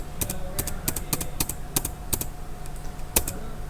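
Keys on a computer keyboard are tapped in an uneven series of sharp clicks during data entry in Tally ERP accounting software, with Enter pressed repeatedly, close and distinct over a steady low hum.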